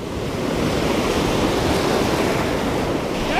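Ocean waves break steadily on a public beach during surf fishing, a continuous loud wash of surf and wind noise with no voices.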